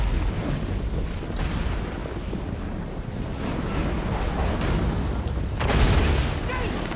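Booming cannon fire and explosions rumble continuously in a busy Total War: Warhammer battle, with one louder blast near the end.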